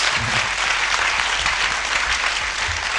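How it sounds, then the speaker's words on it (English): A large audience at a writers' rights event claps in a loud, continuous, even roar of applause that sustains at full strength the whole time. "a huge round of applause for the Federation"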